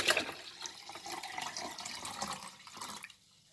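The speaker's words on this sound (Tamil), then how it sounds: "அடுத்ததாக வந்து இதோட கூல் வாட்டர் ஆட் பண்ணிக்கொள்கிறேன்" Cool water is poured into freshly squeezed lemon juice, a close splashing, gurgling pour that runs for about three seconds before cutting off into quiet, with no talking.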